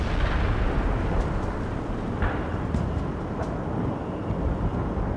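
Heavy artillery fire in the war game World in Conflict forms a dense, continuous rumbling roar of blasts and booms, loud and close, with faint sharper cracks poking through the wall of noise.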